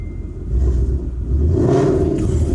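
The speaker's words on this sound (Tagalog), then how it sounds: "Dito sinubukan ko ng i-rev ang Mustang." A Ford Mustang engine revs up nearby, a deep rumbling roar that swells after a quiet start and holds loud through the rest of the moment.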